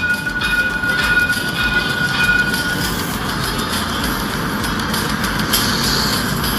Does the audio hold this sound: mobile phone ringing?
no